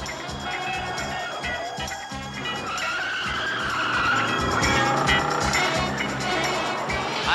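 A blue Ford tears along at speed in a police chase, its engine roaring and tyres skidding and squealing in a continuous dense rush, loud and close throughout.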